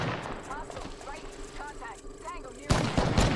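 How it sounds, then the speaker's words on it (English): Gunfire in Apex Legends: rapid, repeated shots crackle through the scene, then a louder, heavier burst erupts near the end, with faint voices underneath. "My teammate's getting shot at"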